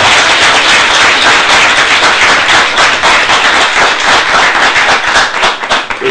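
A crowd at a sermon claps loudly and steadily, dense applause sustained throughout before beginning to thin out at the very end.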